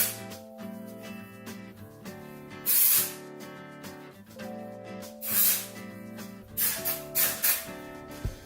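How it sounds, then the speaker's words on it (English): Short bursts of hairspray hiss out three or four times at the hair roots over soft background music, each spray brief and sharp. "Spraying it at my roots."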